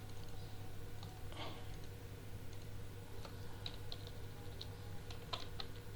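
Computer keyboard typing while writing Excel VBA macro code: light, scattered key clicks in short bursts, close to the mic over a steady low hum, with no talking.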